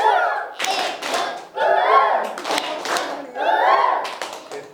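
Schoolchildren in a government school classroom perform the 'koyal' clap pattern, a group of young voices chanting in bursts with claps mixed in, repeating in a steady rhythm of three loud phrases.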